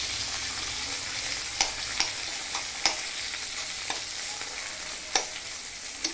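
Tomatoes sautéing with browned onion in a frying pan for a dried bombil chutney, a dense steady sizzle punctuated by about eight crisp spatula scrapes and taps, no voices.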